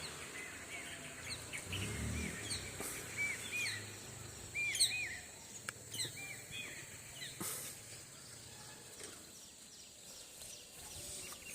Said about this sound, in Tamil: எல்லா பறவைகளும் அதனுடைய இரையை தேடி பறக்குது. ஸோ அது இனிமையான ஓசையோட